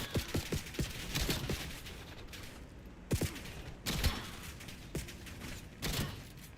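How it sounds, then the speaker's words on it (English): A gray-rarity shotgun fires in the video game Black Ops 7, several loud, sharp blasts at irregular intervals with mechanical handling clicks between shots and no talking. "I'm shocked how powerful this shotgun is"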